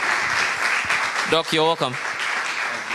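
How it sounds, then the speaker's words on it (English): A round of applause from an audience at a hospital-related climate event welcomes a doctor to the stage, steady clapping throughout with a voice speaking briefly over it midway. "Ladies and gentlemen, please, with a round of applause, help me welcome Dr. Frank Owusu-Sechere"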